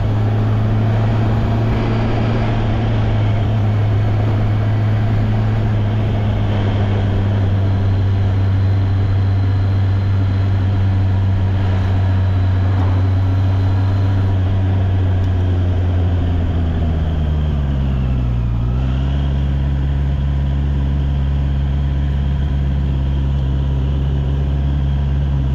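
A Honda motorcycle fitted with E-Clutch rolls along, its engine drone loud and constant, then the pitch dips as the bike slows to a complete stop and settles before picking back up slightly.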